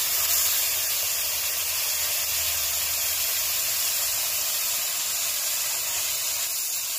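Fish rubbed with salt and turmeric fries in hot oil, a loud, dense and unbroken hiss that holds steady and close throughout with no voices.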